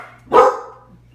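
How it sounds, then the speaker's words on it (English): A dog gives one short, sharp bark close by, rising out of near silence and trailing off quickly over a faint low hum. "And that's dogs."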